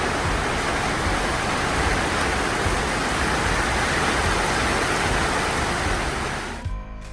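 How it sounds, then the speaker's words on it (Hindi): Dense, steady tropical downpour in Phuket, Thailand roars without a break, a thick wash of broadband noise that cuts off abruptly near the end. "ये देखो एकदम से कितनी ज़बरदस्त बारिश शुरू हो गई"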